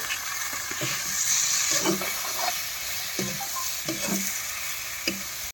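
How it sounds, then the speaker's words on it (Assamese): Potatoes and onions fry in hot oil in a pan, a steady close sizzle with faint scraping from stirring throughout. No voices are heard. "আলুটো লগতে ভাজিছোঁ পিঁয়াজৰ লগতে আলু ভাজা, পিঁয়াজ ভাজা"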